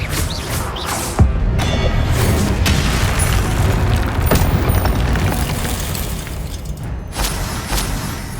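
Spells including Depulso are cast in the video game Hogwarts Legacy, giving a loud rush of booming blasts and crashes with sharp impacts near the start and end.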